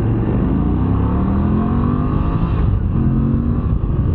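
Moto Guzzi V85TT motorcycle engine running while riding, a loud close steady drone with slowly rising and falling pitch and a brief dip near the end, no talk over it.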